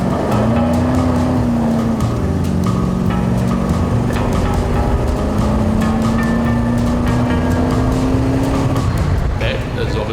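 A Cadillac-powered 1928 Ford hot rod pickup drives along, its engine a loud steady drone with slow pitch swells, heard close amid buffeting wind and road noise throughout.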